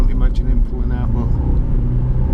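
Jaguar XF 5.0 V8 S sedan engine rumbling loudly while driving, a steady deep roar throughout with a brief voice near the start.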